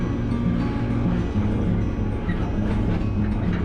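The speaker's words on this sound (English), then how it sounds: "I think we are out of the train yard." Freight train rolling out of a train yard, heard from aboard as a continuous loud rumble and rattle of wagons with steady low-frequency drone, no voices.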